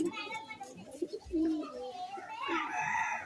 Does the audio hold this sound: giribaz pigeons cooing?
yes